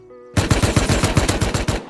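Rapid automatic gunfire in the survival game Rust, about a dozen evenly spaced loud shots in a tight burst lasting under two seconds, close and with no talking.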